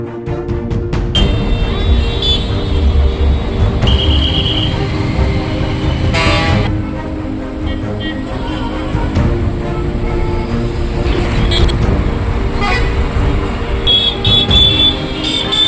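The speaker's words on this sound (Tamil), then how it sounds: "சமயபுரம் டோல்கேட்டில் போக்குவரத்து நெரிசல் ஏற்பட்டது" Dense vehicle traffic crawling in a jam at the Samayapuram toll plaza, with a steady loud engine rumble throughout and scattered horn toots standing out over it.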